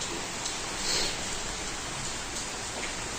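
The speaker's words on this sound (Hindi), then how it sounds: "बारिश बहुत हो रही है" Heavy rain pours steadily in a dense, unbroken hiss with no talking, part of a rainy monsoon-day scene.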